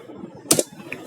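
Keys tapped on a computer keyboard while entering a web address, a few quick clicks over a soft steady background hum.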